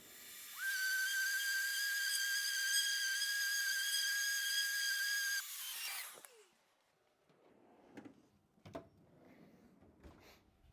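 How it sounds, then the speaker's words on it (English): A power tool whines steadily at a high pitch for several seconds, then winds down and stops, followed by faint scraping and handling noises. "let's get some sanding done."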